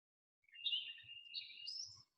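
Faint background birdsong drifts in from outside, a continuous warbling run of high chirps lasting under two seconds, with a few soft low bumps beneath and no voices.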